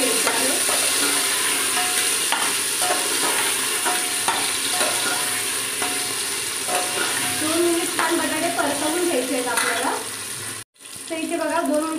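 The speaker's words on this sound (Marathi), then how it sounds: "बटाटे आपण छान याच्यामध्ये मिक्स करून घ्यायचे आहे।" Potatoes being stirred and fried in a pan for Mumbai street-style pav bhaji: a loud, continuous close sizzle with repeated scraping strokes, briefly cutting out near the end before resuming.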